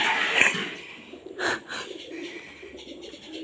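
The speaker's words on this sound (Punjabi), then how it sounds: "ਆ ਗਈ ਜੀ ਨੀਲੀ ਕਬੂਤਰੀ" Soft, low coos from a blue hen pigeon blend into a busy outdoor background, with a brief louder burst of noise in the middle.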